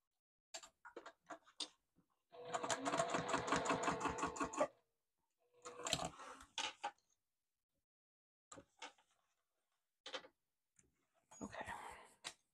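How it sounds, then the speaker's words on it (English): Sewing machine stitching down a seam on a fabric wristlet, one steady burst of rapid mechanical whirring lasting a couple of seconds, followed by sparse clicks and handling taps in a quiet room. "I'm going to actually sew that little bit down"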